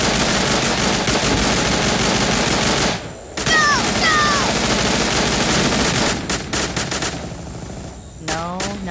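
Sustained rapid machine-gun fire rattles through Tiny Troopers gameplay, dense bursts with a short pause and game sound effects between, loud and close.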